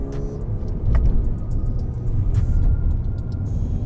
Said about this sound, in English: you want to make an overtake, you just step on it and it goes